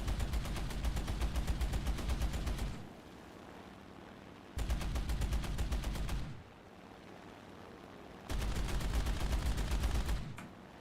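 Three long, loud bursts of aircraft cannon fire in a combat flight game, each a dense rapid stream of shots separated by quieter gaps, with no talking.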